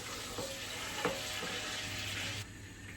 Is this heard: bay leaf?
yes